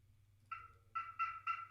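A wild turkey gobbles during a Florida hunt, a roosted bird sounding from close overhead. It gives one rattling gobble and then several quick repeated bursts in a quiet setting.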